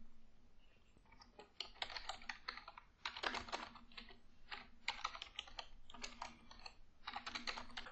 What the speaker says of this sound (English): And now let's start typing.